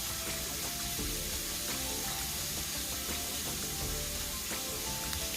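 Fish fries in a pot on a home stove, a loud, continuous close sizzle and crackle with no talking.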